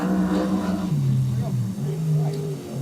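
A race car in time trials runs a lap on a race track, its engine note rising and falling through gear changes, heard loud beneath continuous commentary from a man.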